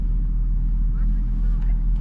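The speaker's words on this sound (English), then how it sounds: "That NA V8 sounds so good." Naturally aspirated Porsche V8 sports car at a cars and coffee meet, a deep, steady engine rumble close by with a few brief higher sweeps, with voices talking around it.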